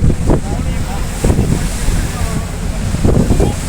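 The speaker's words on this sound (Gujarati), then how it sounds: "તમે દરિયાની પવનનો, દરિયાની હવાનો આનંદ લઈ શકો" Strong sea wind buffeting the microphone on the open deck of a ro-ro ferry, a loud continuous roar with waves and rushing water beneath and a few gusty swells.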